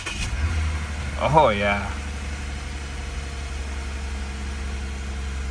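A 2006 Lexus IS350 engine cranks and catches, with a brief rising start-up surge before settling into a steady low idle hum, while someone speaks briefly over it.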